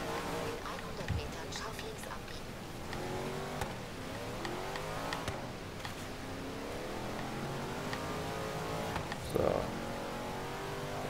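A car drives through the Hot Wheels expansion of the video game Forza Horizon 3, its engine droning and rising in pitch steadily under ongoing talk, with a brief louder burst near the end.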